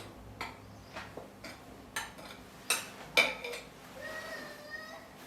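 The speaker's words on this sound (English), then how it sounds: "So as we add the flour, we keep on stirring." A utensil stirs flour into a wet batter mixture for no-oven baking, with a series of separate clinks and taps against the bowl at uneven intervals. Quieter scraping follows, and no one speaks.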